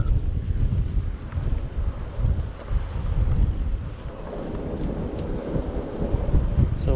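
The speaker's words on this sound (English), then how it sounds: "Well, I must say, although it's nice, it's very windy." Strong wind roars and buffets the microphone continuously while riding a Cube hybrid e-bike along the coast near Chanonry Point, Scotland, a steady loud rumble with gusty swells and no talking.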